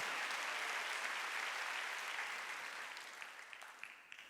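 Congregation clapping during a Wednesday church service, a dense sustained wave of applause that gradually thins and fades toward the end, with scattered individual claps remaining.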